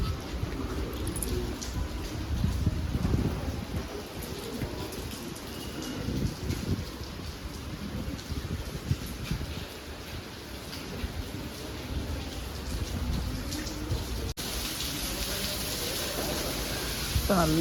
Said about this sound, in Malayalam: നല്ല മഴ പെയ്യാൻ തുടങ്ങിയിട്ടുണ്ട്